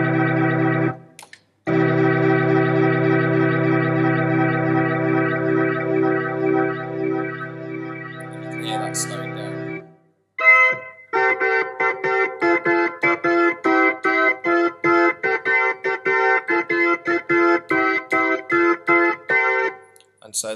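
A 1964 Wurlitzer organ plays sustained chords through a chorus effect, first a long held warm tone, then after a brief pause a faster pulsing, rhythmically wavering texture as the speed changes, with no talk.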